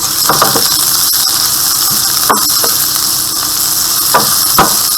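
Onion fries in a hot pan of oil, giving a loud, continuous sizzle with a few faint clinks of stirring mixed in.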